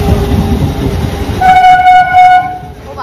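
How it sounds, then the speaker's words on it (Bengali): A passing train at a railway level crossing sounds a long, loud horn blast midway through, steady and close over the rumble of the cars, with no talk. "ও বাবা, দুদিক দিয়ে দুটো। এইটাও ফাঁকা, পুরো ফাঁকা ট্রেন।"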